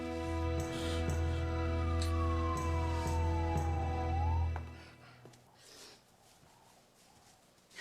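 An ambulance siren wails steadily and loudly, sweeping down in pitch before cutting off abruptly, after which only faint background noise and a few soft movements remain.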